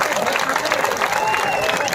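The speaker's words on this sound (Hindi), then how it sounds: "एक बार भरपूर तालियां बजाइए" An audience at a large Hindi comedy poetry gathering in Rajnandgaon breaks into a dense, steady wash of clapping that fills the whole moment, with faint voices mixed in.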